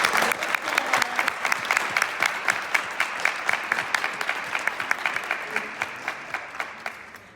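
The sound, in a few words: round of applause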